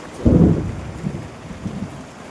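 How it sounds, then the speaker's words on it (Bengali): Heavy rain falls during a violent storm as a close, deep rumble of thunder bursts out loudly at the start, then fades under a steady wash of rainfall. "দেখতে পাচ্ছ কতটা পরিমাণে বৃষ্টি হচ্ছে এখন"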